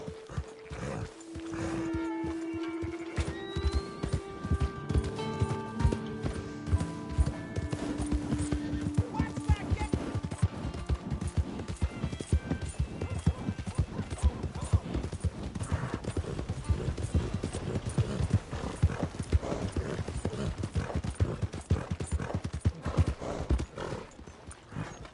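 Horse hooves clip-clopping steadily and close in the Red Dead Redemption 2 video game, a fast continuous rhythm running throughout alongside game ambience and other sounds.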